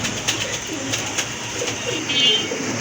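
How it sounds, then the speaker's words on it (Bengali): Rajgolla pigeons with deep red plumage coo in close, loud, repeated rolling calls across the whole stretch, with no talking over them. "আরেক জোড়া রাজগোল্লা কবুতর রেড কালারের ভিতরে টকটকে লাল"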